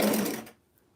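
Sewing machine back stitching on a knit T-shirt, a brief loud mechanical whir running for about half a second before cutting off into near silence.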